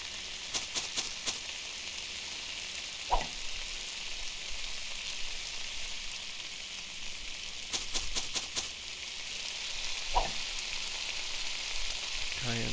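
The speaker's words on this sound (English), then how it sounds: "Sizzle that up." Food sizzles steadily in a pan with a constant hissing crackle, broken by a couple of soft clanks and taps.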